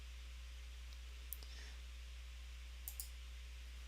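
A few isolated computer mouse clicks while working in Revit software, small sharp ticks spaced apart over a steady low electrical hum, quiet and close with no talking.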